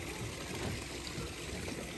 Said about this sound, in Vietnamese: Có một con suối nhỏ chảy róc rách.